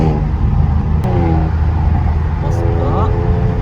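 A Stinger car engine revs hard at high RPM, a loud, strained roar with rising tones that turns ragged and tinny above a certain RPM, steady and close throughout.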